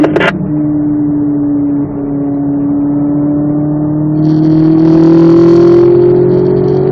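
A Corvette Z06 engine pulls steadily on a racetrack, heard from inside the car as a loud, rising drone climbing in pitch while the throttle opens, with brief rushes of wind noise.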